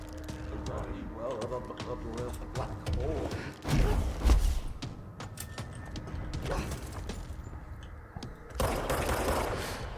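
Rapid gunfire erupts while an enemy is shot in the video game Control, a busy run of mechanical shots and thuds with a heavier impact near the middle, with a player talking throughout.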